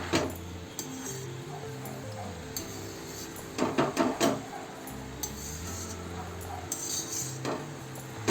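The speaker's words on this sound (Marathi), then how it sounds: "तर प्रत्येक घासामध्ये मीठ व्यवस्थित लागण्यासाठी भाजी आपल्याला नीट परतून घ्यायची आहे." Water spinach greens being tossed in a pan, with light utensil clinks and scraping against the metal that come in short clusters, louder around the middle, over a steady background hum.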